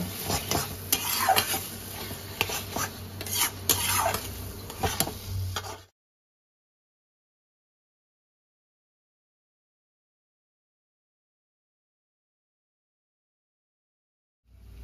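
Mashed bharta is stirred with chopped green chillies and sugar, giving close, steady scraping and mixing sounds for about six seconds before the sound drops to near silence.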